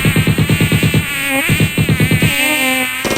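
Close, loud mosquito buzzing in a swamp, a harmonic whine that throbs in rapid pulses, steadying briefly before pulsing again.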